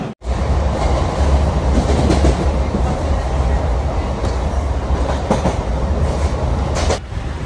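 A passenger train runs near Ongole at around 100 km/h, a loud, continuous rumble with rhythmic clickety-clack beats from the wheels and a brief squeal near the end.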